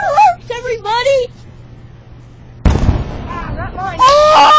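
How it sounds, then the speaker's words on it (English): Fireworks from a video game burst in a loud crackling cluster, then fade into a sustained hiss. Excited voices talk and exclaim over the blasts. "So let's just watch the fireworks, everybody!"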